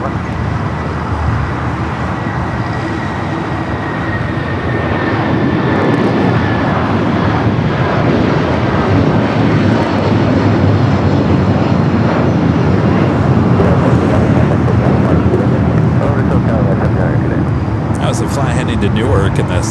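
A Boeing 757 airliner takes off at Los Angeles International Airport with a loud, continuous engine roar that builds and holds, while a voice talks over it.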